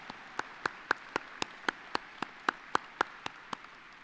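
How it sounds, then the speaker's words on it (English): Graduates are applauded at the NSCC Truro Campus convocation. Steady, evenly spaced handclaps sound crisp and fairly faint, like a few hands clapping in slow rhythm with little crowd noise. "Let's give them a clap."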